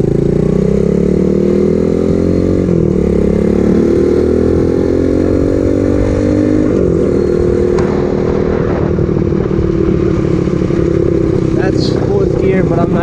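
A super pocket bike with a freshly rebuilt top end drones steadily while being ridden, its engine note rising and then dropping at a gear change, loud and close with wind rush.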